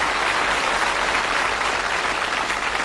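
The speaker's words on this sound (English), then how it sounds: "Worth a round of applause, that." A studio audience at a British television darts quiz show gives a steady round of applause, dense clapping sustained evenly throughout with no talk over it.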